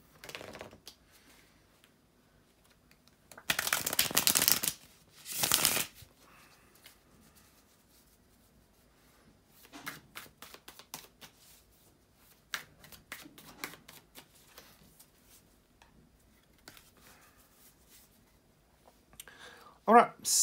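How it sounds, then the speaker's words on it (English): Two short bursts of tarot card shuffling, a riffle followed by a briefer one, in an otherwise quiet room with faint scattered clicks and movement. "bear with me just a second, guys, to shuffle the tarot cards"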